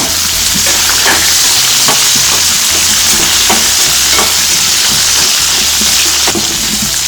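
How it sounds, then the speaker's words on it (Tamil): Shallots, ginger pieces and garlic cloves sautéing in a pan for a pearl millet chilli chutney, a loud close sizzle with repeated scrapes and clicks of a stirring spoon throughout. "இப்படியே இஞ்சி துண்டு, பூண்டு பல் இதையும் சேர்த்து நல்லா வதக்கிடலாங்க."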